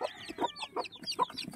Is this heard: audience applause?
no